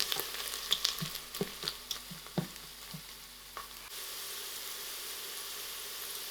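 Mutton curry masala frying in a pressure cooker, being mixed; a series of soft spoon knocks and scrapes over a low sizzle for about four seconds, then a quiet steady hiss.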